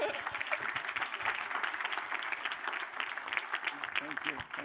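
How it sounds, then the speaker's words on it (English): Audience at an alumni conference brunch applauding, a steady dense clatter of many hands clapping throughout, with a voice speaking over it. "Let's have a big round of applause for Brenna and Leslie."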